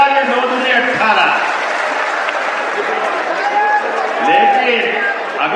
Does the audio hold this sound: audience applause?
yes